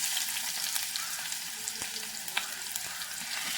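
Oil heating and frying in a pan for cutlet masala just before onions go in, a steady close hiss of sizzling with scattered small pops and a light stir or two.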